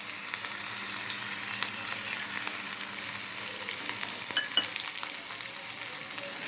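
Mustard seeds, asafoetida, curry leaves, garlic and green chilies crackle and sizzle in hot oil, a steady close frying hiss with small pops and light stirring throughout.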